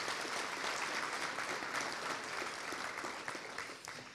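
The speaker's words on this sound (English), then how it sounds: "Let's give them a round of applause." Audience applause at an annual meeting and awards presentation honoring people with disabilities and veterans: a dense, steady wash of many hands clapping for about four seconds, fading slightly at the end.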